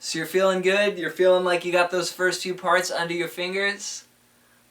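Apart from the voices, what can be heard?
No everyday noise stands out behind the speech.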